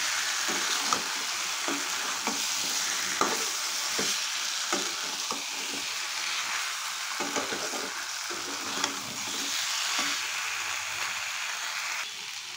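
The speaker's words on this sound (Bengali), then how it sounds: "এবার আবারও খানিকক্ষণ ভালো করে একটু মিশিয়ে নেব" Taro curry sizzles steadily in a pan as a spoon stirs it, with soft scraping taps at irregular moments under the constant frying hiss and no talking.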